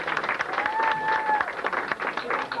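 An audience cheers and claps for a guitar contestant at a music contest, a steady close burst of applause with a sustained tone ringing over it.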